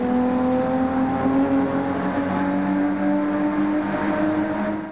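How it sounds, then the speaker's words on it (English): A VW Mark II Golf VR6 with a performance exhaust holds a loud, close, steady rev, its engine and exhaust droning with a rich harmonic tone that rises and falls slightly for five seconds, no voices. "One thing I love about the VR is the noise. With a really good exhaust on it, they just sound fantastic."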